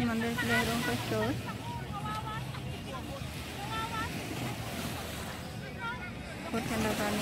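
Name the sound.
sea waves crashing on the beach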